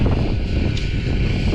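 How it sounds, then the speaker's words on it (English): Generators run steadily at an off-grid homestead, a continuous low broadband hum and rumble mixed with wind-like noise, constant in level throughout with no talk. "You can hear the generators running right now."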